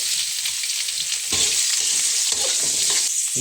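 Chopped onions dropped into hot oil with masala, a loud continuous sizzle with scraping stir strokes throughout, close up and with no talk.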